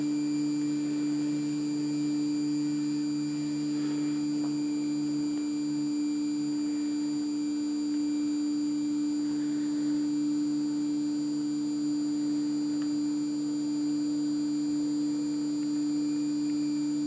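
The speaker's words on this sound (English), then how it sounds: "Oh, makes a little bit of motor noise." A Phrozen Sonic Mini resin 3D printer runs with a steady, faint electric motor hum, a constant tonal drone that holds without change throughout.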